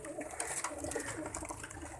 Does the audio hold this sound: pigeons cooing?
yes